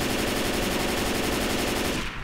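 A long, continuous burst of automatic gunfire in the shooter game Left 4 Dead 2, loud and dense, ending abruptly after about two seconds.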